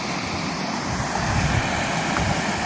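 Water rushes steadily through a control gate on the Stayton ditch, part of the Santiam channels, a loud continuous broadband roar close by with no pauses.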